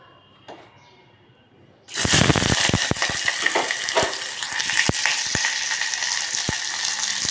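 Chopped onions drop into hot oil in a pressure cooker pot on a stove and burst into a loud, steady sizzle that continues throughout, with occasional crackles and stirring clicks; no talk.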